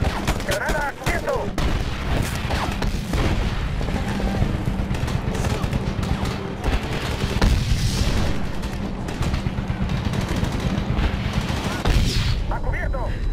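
Grenade explosions and rapid gunfire from the video game Medal of Honor (2010) form a dense, loud, continuous battle din, with bursts of automatic fire and booms throughout and shouted voices underneath.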